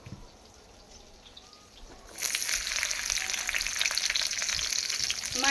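Dried red chilies and garlic in hot oil burst into a loud, continuous sizzle after a couple of quiet seconds, crackling steadily and close up.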